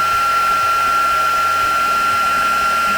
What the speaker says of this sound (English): I'm just going to go over it lightly with the heat gun